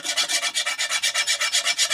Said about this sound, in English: Scrape off as much of the old grass and dirt that you can.